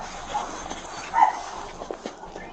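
A dog whimpers and gives short barks amid light scuffling, a couple of brief louder yelps standing out over faint background noise.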